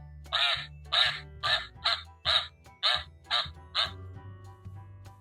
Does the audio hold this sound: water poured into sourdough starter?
no